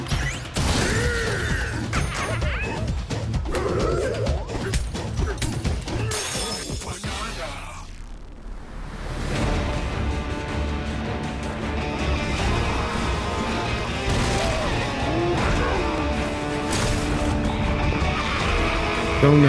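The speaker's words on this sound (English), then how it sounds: "With incredible strength, smash through enemies, walls, the ground, and just about everything" Donkey Kong smashes through walls and ground in a video game: loud crashing and shattering impacts hit repeatedly over busy game sound, then a short lull gives way to dense music with further thuds.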